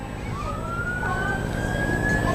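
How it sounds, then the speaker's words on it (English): A far-off emergency vehicle siren on an interstate sweeps upward in a long rising wail, heard faintly over a constant low outdoor hum at a baseball game. "Sirens going off across the way there."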